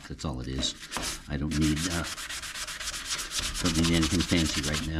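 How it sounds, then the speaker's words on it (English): Sponge sanding block rubbed over the reshaped fender of a 1964 Chevrolet Impala, giving a steady, close scraping hiss in repeated strokes while someone talks over it. "this is nothing more than a sponge sanding block"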